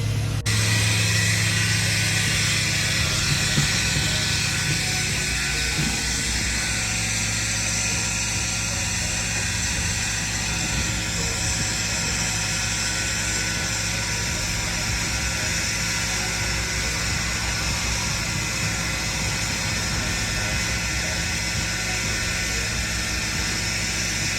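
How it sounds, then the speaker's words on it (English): A septic service pump truck runs steadily while pumping out a septic tank at a site with a failing drainfield, its engine and vacuum pump making a loud, continuous mechanical drone with a bright whine throughout. "we're gonna go ahead and pump it out"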